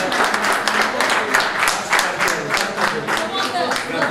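A crowd applauds a small child player at a children's home jorkyball tournament, steady close clapping throughout with a few brief voices mixed in.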